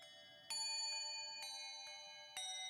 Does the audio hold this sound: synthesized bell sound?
yes